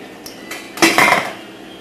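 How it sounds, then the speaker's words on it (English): A metal lid set back onto a pot of potato soup on the stove, two quick clanking knocks close by, ringing briefly before fading, with no voices. "put the lid back on, let it cook some more"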